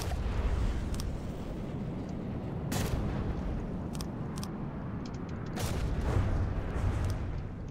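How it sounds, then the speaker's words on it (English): Cannon fire in the naval combat game From the Depths, aimed at a marauder: several booming shots at irregular intervals over a steady rumbling background, distant and moderately loud. "While my cannon tries to destroy a marauder in the background and does a very bad job of it"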